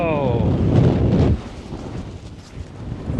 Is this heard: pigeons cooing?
no